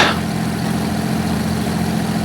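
Aircraft engines idling in the X-Plane 11 flight simulator, a steady low droning hum holding an even level throughout with no one talking.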